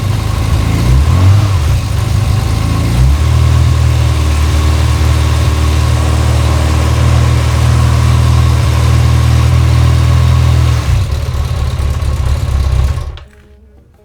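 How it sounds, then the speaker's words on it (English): A motorcycle engine, the choke just taken off, idles steadily and close by with a smooth, even drone, its carburettor freshly cleaned after the bike stood unused for over half a year; the engine cuts out and falls silent near the end. "Engine running smoothly."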